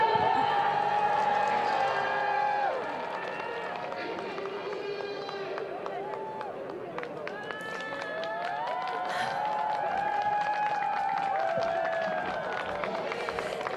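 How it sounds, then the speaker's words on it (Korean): Warm crowd applause at an outdoor candlelight rally welcoming a speaker, sustained clapping and cheering under an amplified voice and tonal sounds from a sound system, with the clapping swelling again toward the end. "이승현님을 어느 때보다 뜨거운 박수로 모시겠습니다."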